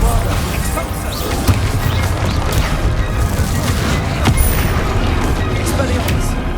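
Bombarda and Expulsor spells explode in Hogwarts Legacy combat: loud booms, crashes and sharp impacts land in quick succession amid constant battle noise, with voice under the blasts.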